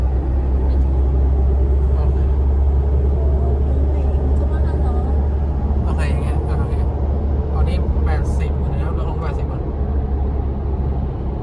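Steady loud low drone of a car cruising at 80 km/h in fourth gear on Linglong Crosswind 285/75 R16 mud tires, a constant road and tire rumble with faint voices talking briefly over it.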